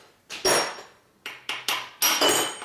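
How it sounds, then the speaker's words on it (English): Sharp metallic strikes ring out as a chisel is hammered while working on a 2004 Harley-Davidson Twin Cam touring motorcycle engine, about seven close, loud blows in uneven groups, each with a short clanging decay. "That's a chisel."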